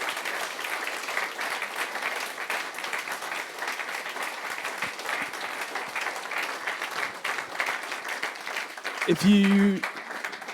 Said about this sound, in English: Give a round of applause, Stu, yeah.